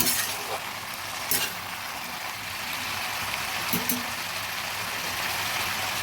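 Tomatoes and green chillies sizzle steadily in a hot pan for a vegetarian pumpkin-stem and potato curry, with a couple of soft stirring scrapes breaking through the continuous close hiss.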